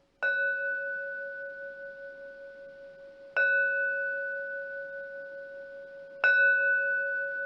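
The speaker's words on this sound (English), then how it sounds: "Inviting the beautiful sound of the singing bell to guide you home to your true self." Three strikes of a meditation singing bell, evenly spaced, each producing a bright sustained tone that fades slowly into near silence before the next.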